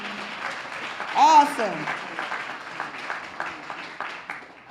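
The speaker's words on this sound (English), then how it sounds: "Let's give them another round of applause." Moderate audience applause at a plenary session, clapping spread across a room with a voice briefly calling out over it near the start before the clapping settles and thins.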